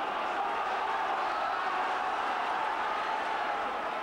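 Hearts football supporters fill a stadium with a steady, distant roar of crowd noise that holds evenly without distinct chants or peaks.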